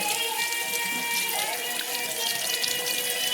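Running tap water streams steadily while dishes are washed under it, a continuous close splashing hiss for a few seconds with no talk.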